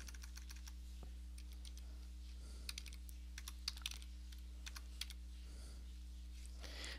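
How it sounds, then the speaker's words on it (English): Typing on a computer keyboard in quick, light bursts of clicks over a steady low electrical hum, close and fairly quiet, with no talking. "we're going to go down and we're going to type in dot footer"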